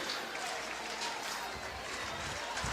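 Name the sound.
baseball crowd cheering in the stadium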